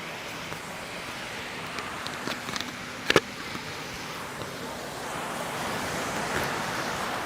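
Ocean surf washing onto a beach on Koh Samet, Thailand, a steady broadband wash that swells slightly toward the end, with wind on the microphone and a brief clatter near the middle.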